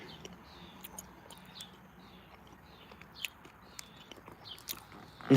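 Sour ball bubble gum is chewed close up, with soft wet smacks and small sharp clicks from the mouth scattered over a quiet background, and no talking.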